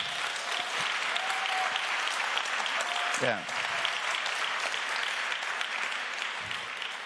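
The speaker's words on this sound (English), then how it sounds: "your applause shows that you all agree that Hélène is a wonderful president" Sustained applause from a large audience at a World Health Summit closing ceremony, a dense even roar of clapping throughout with a few faint voices and a brief exclamation near the middle.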